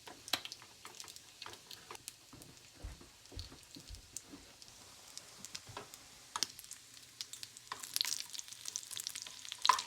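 Thin-cut bacon fries in a pan, a quiet, steady crackle of irregular pops and spits that grows a little denser and louder toward the end, with no voices.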